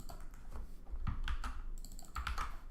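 Close, steady clatter of computer keyboard typing during a website SEO work session, with rapid irregular key clicks throughout and no talking.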